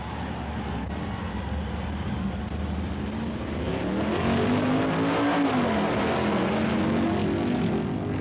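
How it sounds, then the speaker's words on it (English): A 1965 AHRA Winternationals drag race between a Pontiac and the Brown Auto Sales Stalker roars with loud, steady engine noise, and one rising and falling engine tone sweeps past partway through. "Pontiac in the near lane gets a fast hole shot and holds the early lead against the Brown Auto Sales Stalker"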